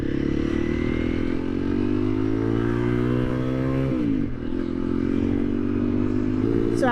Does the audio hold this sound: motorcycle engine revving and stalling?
yes